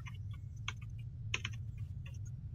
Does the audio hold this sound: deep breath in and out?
no